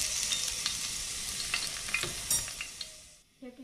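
Cilantro sizzling in oil in a frying pan, a steady bright hiss with small crackles and pops, close and alone, fading as the frying settles near the end.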